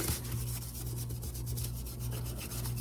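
Top coat wax being rubbed by hand onto a rusty metal cake pan, a close, steady back-and-forth scrubbing with repeated rhythmic strokes and no talking.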